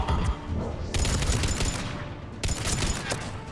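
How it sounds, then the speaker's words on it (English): A mounted gun fires in Mass Effect 3, heavy bursts of gunfire crashing in around the one-second and two-and-a-half-second marks over a constant roar of combat noise. "Enemy on the mounted gun."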